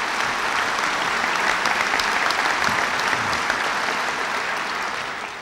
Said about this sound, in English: now I'm happy to hear that applause for that particular court decision.